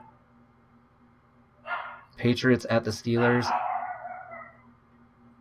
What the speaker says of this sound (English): There's my dog barking again because he's annoying.